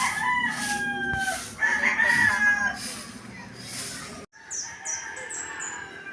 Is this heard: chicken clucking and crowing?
yes